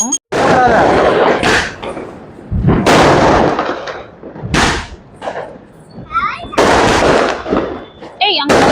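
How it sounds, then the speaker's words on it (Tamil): Loud Deepavali firecracker bursts crackle and pop in rapid clusters, some nearby and sharp, with people talking and calling out between the bangs. "எல்லோரும் பட்டாசு அடிக்க போயிட்டோம்"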